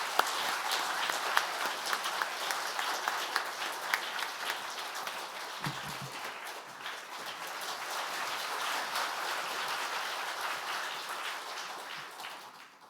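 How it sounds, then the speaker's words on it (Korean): A church congregation claps to welcome a visiting missionary, a steady wash of applause that lasts about twelve seconds and fades slightly near the close, with no talking over it. "박수로 환영하겠습니다."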